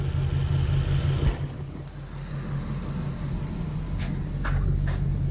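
A Toyota Hilux ute fitted with a swapped-in 1UZ V8 idles at low revs, a steady deep rumble with a brief louder surge early on, then settling into an even hum.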